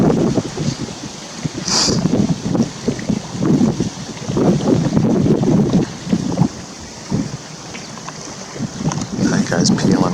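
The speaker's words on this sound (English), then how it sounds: "There's another boat." A boat passing out on the Chesapeake Bay, its steady engine drone mixed with wind buffeting the microphone and water noise, while someone talks intermittently over it.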